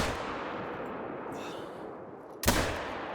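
A single sharp handgun shot in theHunter: Call of the Wild, a .243 handgun being zeroed, cracks out near the end over a steady low game-ambience hiss.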